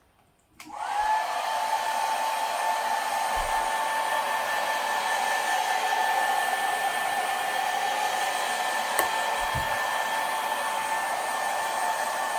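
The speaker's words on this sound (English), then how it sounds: "I like to start off using the hairdryer for the first set of air" A hair dryer switches on and blows steadily at close range, a continuous whirring hum with a tonal whine, used to push air bubbles out of freshly poured epoxy on a mosaic tile window.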